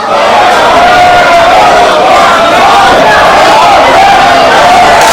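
A wrestling crowd roars in a loud, sustained wall of cheering and shouting, steady throughout with no distinct breaks.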